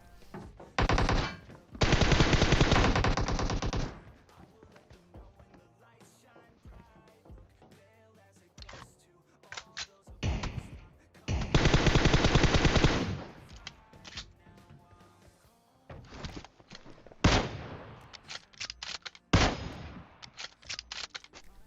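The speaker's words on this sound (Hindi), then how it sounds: "अब एक काम की गन है, एक ऑटो गन पड़ी है मेरे पे" Automatic gunfire in the PUBG video game, heard as several long sustained bursts separated by pauses, with shorter single shots and brief bursts toward the end, loud and close.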